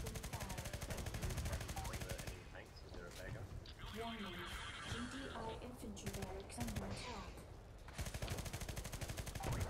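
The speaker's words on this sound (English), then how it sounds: "I'm gonna play Gunner for a little bit. Looks like a semi-auto rocket launcher." A semi-automatic rocket launcher fires in the Renegade X video game, with a rapid run of repeated sharp blasts that pauses midway and resumes, while people talk over it.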